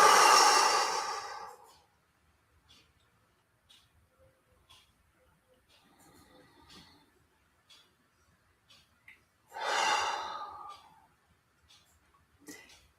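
A deep breathing exercise with two long, loud, close breaths about eight seconds apart, and near-silence with small soft sounds between them.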